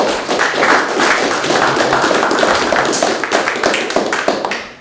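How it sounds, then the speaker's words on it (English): A small crowd at a Jamaica selectboard meeting applauds with quick, dense hand claps for about four seconds before tapering off, close and fairly loud. "Judging only from the applause"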